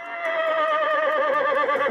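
A horse gives a loud, close, sustained whinny that fills the whole moment, steady and tonal from start to finish with no talking over it.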